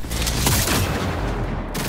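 Sustained bursts of gunfire come from the video game Cyberpunk 2077, loud and dense, with rapid shots blending into a continuous barrage.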